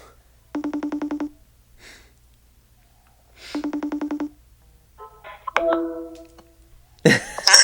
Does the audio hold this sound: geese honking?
no